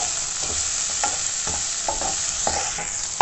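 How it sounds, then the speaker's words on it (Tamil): A spoon stirs curry leaves and coriander through a frying potato and pea masala in a pan. Scraping strokes recur about every half second over a steady close sizzle, with no voices. "கருவேப்பிலை, கொத்தமல்லி போட்டுக்கிறோம். நல்லா மிக்ஸ் பண்ணிக்கோங்க."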